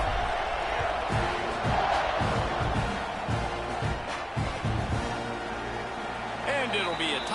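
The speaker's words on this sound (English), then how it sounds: "this crowd is buzzing after that last score" Steady stadium crowd buzz in a college football video game after a score, a dense continuous roar with rhythmic thumps and a commentator's voice talking over it.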